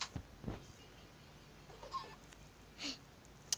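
Minecraft chicken clucking in short, faint bursts spread across a quiet game scene, a few soft clucks and squawks rising and fading with no talk over them.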